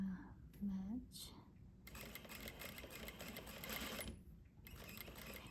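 A sewing machine stitches fabric in bursts, running steadily for a couple of seconds, pausing, then starting again, with someone speaking briefly at the start.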